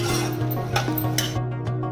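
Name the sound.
stirring and frying chicken in a pan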